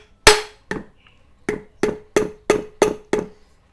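A hammer strikes while a front racing wheel and disc are fitted to a Yamaha Scorpio motorcycle. There are eight sharp metallic blows, the first the loudest, then a steady rhythm of evenly spaced ringing taps, close up.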